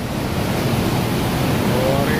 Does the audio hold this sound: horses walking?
no